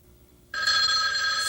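A telephone bell starts ringing abruptly partway through, loud and continuous after a short stretch of near silence, with a bright, sustained metallic trill.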